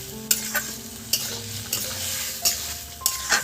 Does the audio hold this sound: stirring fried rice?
yes